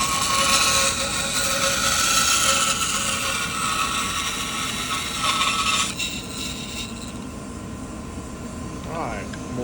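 A band saw running with a steady mechanical whir and rattle, loud and close, dropping in level partway through as the machine begins to wind down.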